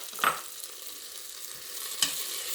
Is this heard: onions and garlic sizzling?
yes